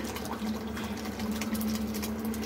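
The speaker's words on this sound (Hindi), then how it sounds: "पानी भी देखिए एकदम उबल रही है" Water bubbles and simmers steadily in a pot for veg biryani, a soft continuous burbling with a faint low hum underneath.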